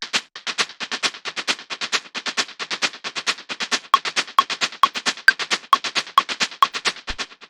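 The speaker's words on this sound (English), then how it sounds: "then we have this crunchy loop down here," A crunchy, gritty industrial noise loop with a dark techno feel repeats in fast, regular pulses of distorted texture, steady and close, with no voices.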